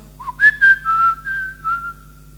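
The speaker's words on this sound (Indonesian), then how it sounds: "saya bisa bersiul minimal" A human whistles a short melodic phrase of several sustained notes, clear and close, with no talking.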